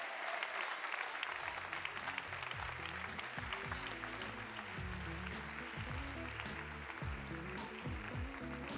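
A large audience at a school award ceremony applauds in a sustained, even roar of clapping, with a camera moment and music-like tones running beneath the applause.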